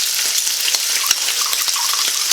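Pineapple juice strained off from an opened can with its lid pressed down, a steady close hissing, crackly liquid stream running continuously without pause.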